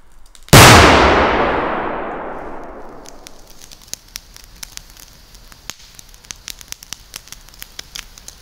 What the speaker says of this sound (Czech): Jako další petarda Super Cobra 6.